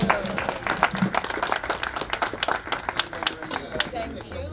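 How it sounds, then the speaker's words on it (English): Applause at the official opening of a health equity office and building in Brooklyn, with scattered hand claps and cheering under loud crowd chatter across the whole stretch. "Please, a round of applause."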